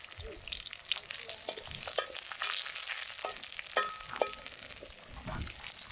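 Shallots and curry leaves frying in a pan, a steady close sizzle with crackles and a few sharp pops, moderately loud with no talk.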